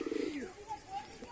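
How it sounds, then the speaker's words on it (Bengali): A male pigeon coos close by in a short burst of throaty, rolling notes, with a couple of fainter calls trailing after. "আমাদের এই নর কবুতরটা খুব ডাকাডাকি করছে ওর পেছনে"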